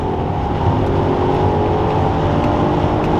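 A 2006 Audi A3 3.2 V6 Quattro S line with its exhaust flaps open, a loud, steady, close-up engine drone that holds without a break for the whole stretch, with no talking.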